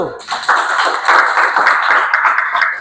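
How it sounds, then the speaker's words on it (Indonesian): Students in a classroom clap for a group in a quick burst of bright, close applause that starts abruptly and carries on evenly to the end. "Tepuk tangan dulu untuk kelompok 1."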